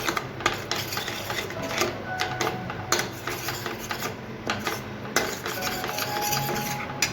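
Dal makhani with red chilli being stirred in a pot, giving steady scraping and clinking of a spoon against the metal vessel, close and continuous, with no talking.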